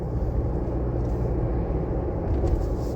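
Steady low engine and road rumble from a Ford Bronco with an 8-speed automatic transmission driving over a somewhat bumpy road, heard from inside the cabin, continuous and fairly loud without speech.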